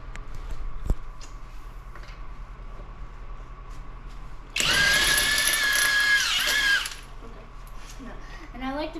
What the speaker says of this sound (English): now we're going to use a 1/2-inch impact wrench to take off the rest of these bolts.